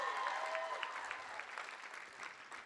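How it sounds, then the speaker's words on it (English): Steady applause from a convention audience, fairly faint and distant, with a hint of crowd murmur underneath, sustained throughout. "Round of applause for Sherilyn."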